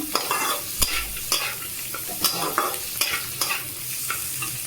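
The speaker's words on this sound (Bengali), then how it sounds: "নেড়ে চেড়ে নেব এবার একটু হাই ফ্লেমে দিলাম" Maggi noodles stirred in a pan over high flame, with a run of sharp spatula scrapes and clacks against a steady frying sizzle, close and fairly loud, no voices.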